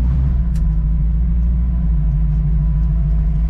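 A Chevette fitted with a V8 engine gives a loud, deep, steady throbbing rumble close by, holding an even burbling tone for several seconds without clear rises in pitch.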